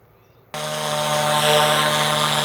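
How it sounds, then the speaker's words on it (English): Close, loud helicopter with a steady rotor and turbine roar that starts abruptly and holds strong, steady tones, flown with a fast start, quick turns and basic aerobatics. "And now I show you that you can fly as well a little bit more aggressive with a helicopter"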